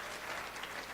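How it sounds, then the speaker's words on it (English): Audience at a regional education and leadership congress breaking into applause, a dense wash of clapping from a crowd in a hall, fairly faint and steady throughout. "Can we give them a round of applause?"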